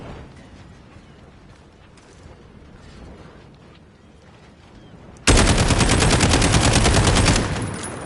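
A SCAR rifle in Call of Duty fires a sustained automatic burst during a recoil test, loud and dense, starting abruptly after a quieter stretch of low background noise and running for about two seconds before cutting off.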